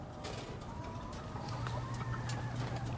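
Male broiler chicks chirp in a dense group, a steady overlapping chorus of high peeps and soft clucks continuing throughout at moderate volume.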